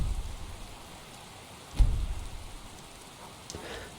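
Steady rainfall in the video game Skyrim patters softly and continuously, with a brief low rumble like distant thunder midway and a faint later swell.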